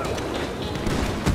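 Gunfire in the online shootout game Red Dead Online: several muffled shots popping over a busy background, with one sharper report near the end.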